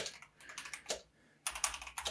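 Quiet typing on a computer keyboard while working on a document, heard as scattered bursts of light clicking keystrokes. There is a short gap, then a quicker run of taps, close up and with no voice.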